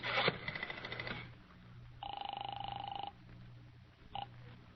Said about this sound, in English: I'll phone the hotel.